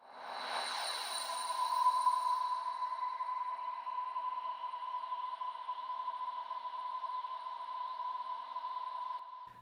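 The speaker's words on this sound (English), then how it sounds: "Just a nice bit of a ambient drone there" A soft, shimmering ambient drone holds a sustained tone with gently swirling high overtones, steady and fairly quiet throughout before stopping abruptly.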